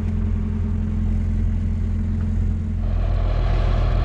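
Tractors working a peanut field, a steady low engine drone running throughout, close and constant, with rough mechanical rumble growing a little louder near the end.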